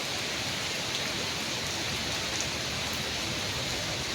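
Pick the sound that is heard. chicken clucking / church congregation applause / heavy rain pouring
heavy rain pouring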